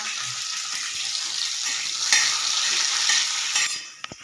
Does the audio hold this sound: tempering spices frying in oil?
yes